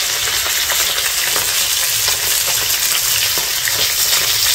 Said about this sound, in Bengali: এদিকে মা মাছ ভাজছে এখন। এগুলো সব মাছের মাথা গুলো ভাজা কমপ্লিট, আর এখন পিস গুলো ভাজা হচ্ছে।